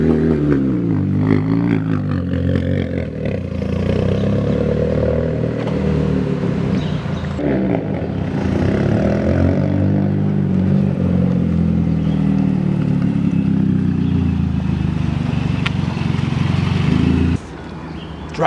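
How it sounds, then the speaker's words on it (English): R53 Mini Cooper S launching from a start, the engine revving and straining under clutch slip for a long, loud, continuous stretch heard from inside the car, cutting off abruptly near the end. "listen how much clutch I use when I start"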